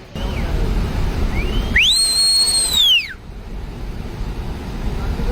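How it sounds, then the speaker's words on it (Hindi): A single long warning whistle blast sweeps up, holds and falls over steady roadside noise during a cloudburst in Himachal Pradesh, followed by a faint shorter chirp earlier on. "लोग चिल्लाने लगे, सीटियां बजाकर लोगों को अलर्ट करने लगे।"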